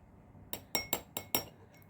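Glass jars being filled with vinegar for preserving raw mango and their lids closed, heard as five sharp, close clinks in quick succession, with no talking.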